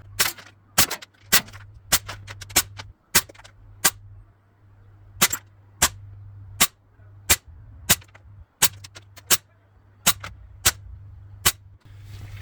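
A Springfield XDM replica BB pistol is fired outdoors in about twenty sharp, snappy shots, spaced irregularly roughly half a second to a second apart over a faint steady hum, with no talking.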